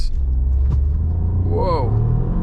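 Lynk & Co 01 PHEV, a 2024 plug-in hybrid with a 1.5-litre turbo engine and 261 hp, launching hard from a brake hold. A steady, loud low rumble builds under the acceleration, and a voice speaks briefly over it.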